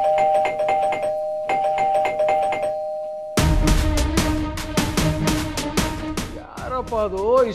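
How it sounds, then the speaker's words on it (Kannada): A doorbell chimes over and over in a household scene, a steady run of repeated bell tones followed by a louder, busier stretch of rings with voices and background music around them. "ಇಷ್ಟೊಂದ್ ಸರಿ ಬೆಲ್ ಮಾಡ್ತಾ ಇರೋದು?"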